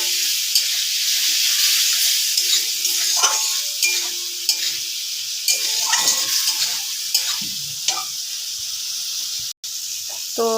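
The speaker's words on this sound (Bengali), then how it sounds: "এখন হালকা একটু জল দিয়ে আরও ভালো করে কষাবো।" Curry stir-fried in a pan after a splash of water sizzles and hisses continuously, with repeated spatula scrapes and clinks cutting through the close, loud frying.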